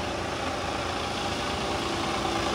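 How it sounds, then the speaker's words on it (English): A 2014 Mercedes-Benz Tourismo coach with a Euro 6 Mercedes engine and eight-speed PowerShift gearbox idling, a steady, even rumble close by with no voices. "Under the bonnet, Euro 6 Mercedes engine, which is driven through Mercedes own 8-speed power shift automated gearbox."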